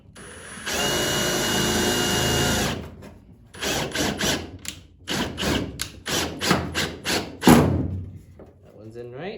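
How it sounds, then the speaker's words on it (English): Power drill whirring steadily, then driving screws into an aluminum mini fishing boat in a series of short bursts with thumps in between, close and loud. "throw a screw in all the way down here, twisting it the right direction"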